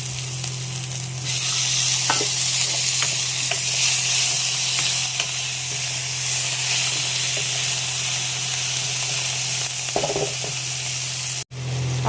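Black cumin seeds tempering in hot oil for a fish, potato, tomato and onion dish crackle and sizzle steadily close up, a constant frying hiss over a low hum, with a few stirring clinks and no talking.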